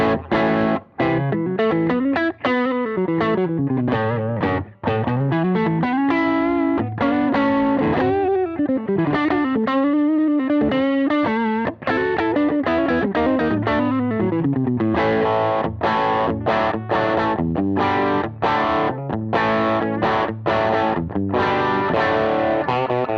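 An electric guitar played through a KTR Klon overdrive pedal with older diodes rings out alone in a continuous driven phrase of bends, slides and picked notes, with a warm gritty edge throughout.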